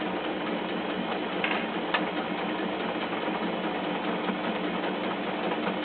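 A sewing machine stitches close by in a steady, even run with a faint ticking under the whir, lasting the whole stretch without pauses or talk.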